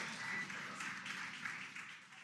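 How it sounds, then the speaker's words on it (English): Faint, distant applause and cheering from a crowd during a space capsule's splashdown rise as a steady wash of clapping and then fade slightly. "You can hear the crowd here."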